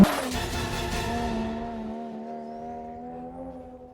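Chevrolet Camaro drift car engine roaring loudly at first with tire noise, then settling into a fading, steady drone as the car pulls away.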